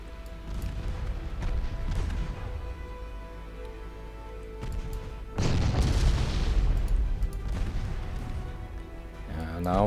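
Gunfire and booming impacts strike transport ships in a naval war game, with a dense, heavy rumble of shots and explosions that swells midway, and a voice breaks in near the end.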